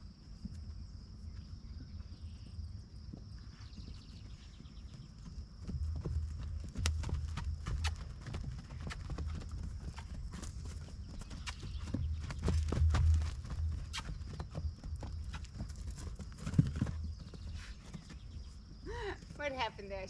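Hooves of a horse named Tequila clip-clop in a quick, steady series of sharp thuds as it canters on soft ground, with insects chirring faintly and a person speaking briefly near the end.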